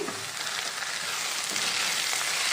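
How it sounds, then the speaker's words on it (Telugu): Ivy gourd pieces fry and are stirred in a pan, giving a steady, close sizzle with faint scraping from the stirring throughout. "ఇలా మధ్య మధ్యలో మాడకుండా కలుపుతూ ఫ్రై చేసుకోవాలండి"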